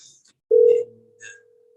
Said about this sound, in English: my intercom is ringing